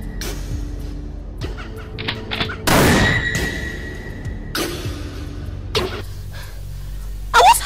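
Scattered gunshots in a film shootout, several sharp loud cracks spaced irregularly with quieter stretches between them.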